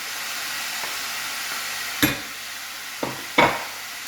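Beef sautéing with vegetables in a pan gives a steady close sizzle and hiss, with a few brief stirring scrapes and clatters.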